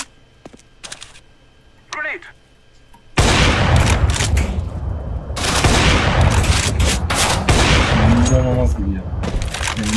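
Sustained video game shooter gunfire fills most of the clip, loud and dense with bursts of shots, starting abruptly after a few seconds of quieter sounds, with players talking at times underneath.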